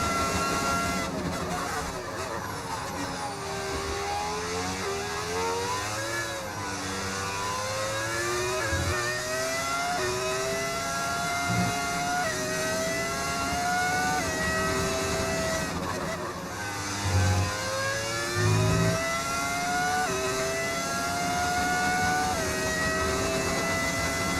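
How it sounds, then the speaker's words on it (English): A V10 Formula 1 engine in the F1 25 racing game, revving high and shifting through gears with rising whine sweeps, continuous and loud, with occasional commentary voice underneath. "That is the beauty of the V10 engine, is what you're hearing."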